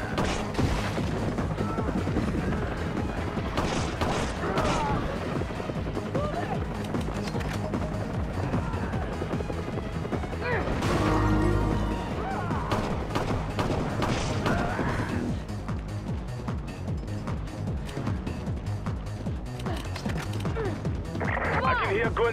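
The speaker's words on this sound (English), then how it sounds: "can hear gunfire" Bursts of gunfire and crashing impacts fill a Resident Evil 5 match, with repeated shots and booms over a dense game soundtrack while a player talks throughout.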